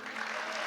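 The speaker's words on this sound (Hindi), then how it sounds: "क्या ये तालियां थोड़ी और तेज हो सकती है?" Auditorium audience at a journalism talk event clapping, a brief dense wash of applause, steady and fairly full, with no voice over it.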